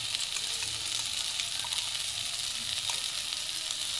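Poppy seed paste ground with green chilli and a little ginger sizzles steadily in a hot pan, a dense, even hiss of frying that stays close and continuous throughout, with faint stirring clicks and no voices.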